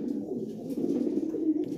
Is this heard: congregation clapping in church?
no